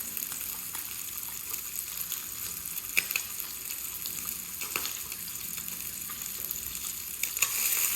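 Bacon and sausage frying in their own grease in a pan, a steady crackling sizzle with occasional sharper pops, close and continuous.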